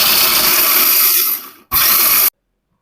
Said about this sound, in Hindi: ग्राइंड कर लिया हमने मोटा-मोटा, इनको बहुत बारीक पीसने की ज़रूरत नहीं है।